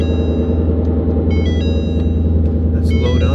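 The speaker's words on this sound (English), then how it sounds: "let's start it up and put some heat into this engine." A Mustang engine idles with a steady low rumble throughout, accompanied by faint chiming and beeping tones, without any clear starting crank.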